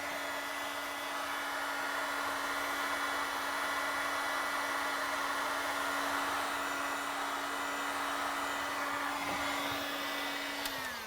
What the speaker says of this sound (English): we can grab the heat gun and heat it up so the shrink tube shrinks down